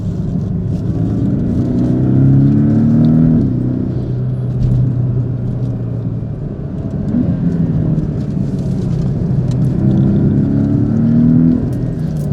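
A lowered Porsche 718 Cayman works through turns on a small handling circuit, its engine rumbling loudly and rising and falling in pitch as it accelerates and eases off, heard from inside the car without speech.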